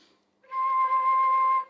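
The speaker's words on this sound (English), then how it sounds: "So it sounds more like a whistle, and that's a whistle tone." A flute playing a whistle tone, a soft, pure, steady high note held for about a second, with a faint breathy attack just before it.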